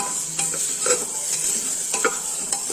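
Broken wheat dalia fries in a pan with a pinch of salt and turmeric for a baby-food khichuri: a soft sizzle runs throughout, broken by a few brief scraping stirs of a utensil against the pan.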